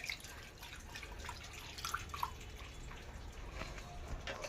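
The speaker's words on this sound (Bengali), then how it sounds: "ঠান্ডা জল দিয়ে ছানাটা একটু ভালো করে ধুয়ে নেব।" Chhana (fresh cottage cheese) being washed with cold water, with soft trickling and dripping water close by, a faint continuous wash with a few clearer drips.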